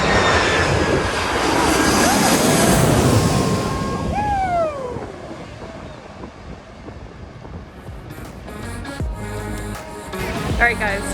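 A jet airliner passes low overhead on its landing approach at Maho Beach, St. Maarten, its loud engine roar sweeping past and then fading as the aircraft descends toward the runway, with wind buffeting the microphone.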